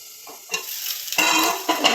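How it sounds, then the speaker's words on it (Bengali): Panch phoron and dried red chillies dropped into hot oil crackle and sizzle in bursts, rising from near silence to a loud, close, hissing fry with a few stirring knocks, no talking. "তাতে আমি পাঁচফোড়ন, শুকনা লঙ্কা এগুলো দিচ্ছি তেলে"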